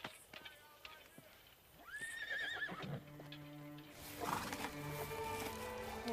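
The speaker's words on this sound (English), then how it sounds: "Horse." A horse whinnies with a rising, wavering neigh, followed by clip-clopping hooves and rustling activity in a period drama scene; voices talk faintly around it.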